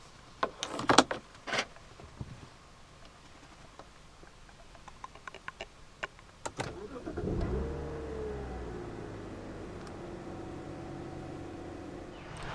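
Inside a 2010 BMW 323i with the door closed, scattered clicks and taps lead to the engine cranking and catching, then a rev swell that settles into a steady, smooth idle hum.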